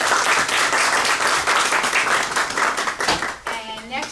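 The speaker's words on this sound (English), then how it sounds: "So we'll give him a round of applause anyway." Audience at an art league fall members' exhibition awards gives a round of applause, dense nearby clapping that fills the room and then tapers off near the end.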